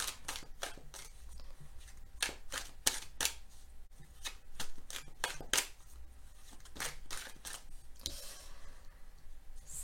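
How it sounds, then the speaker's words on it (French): Tarot cards being shuffled by hand, giving a run of crisp, rapid riffling snaps and flicks in uneven bursts, close and fairly quiet, with no talking. "je bats les cartes et je prends uniquement celles qui sautent"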